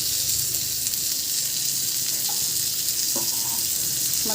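Fish frying on high heat, a loud, close, unbroken sizzle with a dense hissing texture and a few faint tonal clicks near the end.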